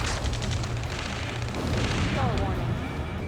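A dense, continuous roar of gunfire and explosions fills a battle scene in the video game Ace Combat 7, with shouted voices over the din.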